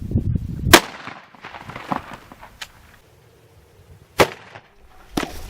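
Shotgun slugs fired at a body armor vest in an outdoor shooting test, sharp loud blasts spaced out over several seconds, each with a short echoing tail, with low rumbling between shots.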